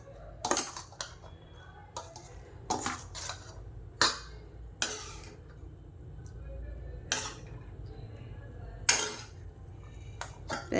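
A spoon mixes tamarind rice in a metal pot, making intermittent sharp clinks and scrapes spaced a second or two apart over a quiet background.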